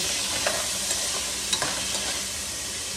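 Pork sizzles and sautés in a pan for pakbet, a steady loud frying hiss with a few light clinks of stirring, close and alone.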